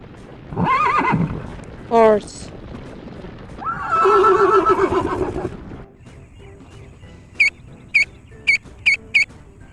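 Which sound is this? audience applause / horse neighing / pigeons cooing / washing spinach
horse neighing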